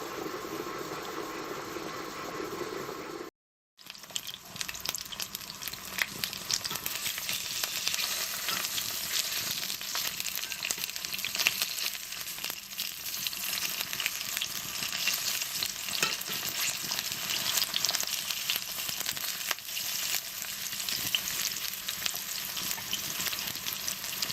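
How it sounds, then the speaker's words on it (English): Zucchini frying in oil in a pan for homemade organic tomato sauce, making a loud, continuous crackling sizzle with stirring throughout after a brief cut near the start, with no speech. "I like adding zucchini to mine, so I'll fry it in some oil."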